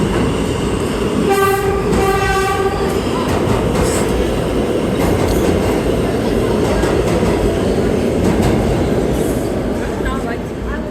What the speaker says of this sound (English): So we have an R train with R160 type cars.